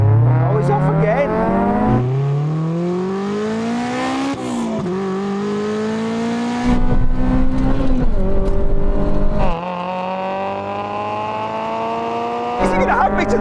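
Drag race cars accelerating down a quarter-mile strip from a 10 mph rolling start, loud engines rising in pitch through several gear shifts, with tire noise and occasional voices over the roar.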